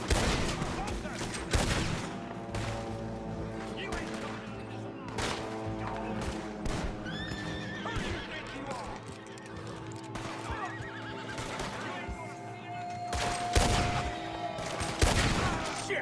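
Horses neigh and whinny repeatedly with hoofbeats clip-clopping during a gunfight in the Red Dead Redemption 2 video game, with scattered gunshots mixed in and a voice briefly talking over the action.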